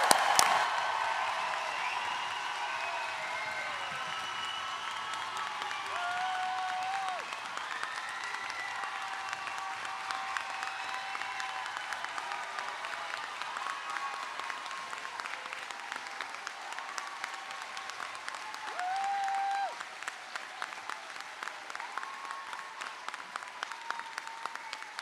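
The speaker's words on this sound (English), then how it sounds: "Let's give them all a round of applause" Sustained audience applause at a 2022 commencement ceremony, steady dense clapping filling the whole stretch with scattered whoops and cheers over it.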